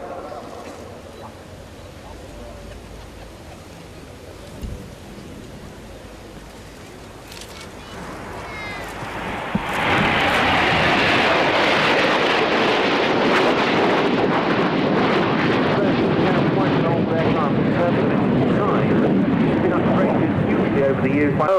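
A Tornado jet with swept wings passes at a tri-nation air display, its distant wind-blown hush swelling into a loud, sustained roar under an announcer's commentary.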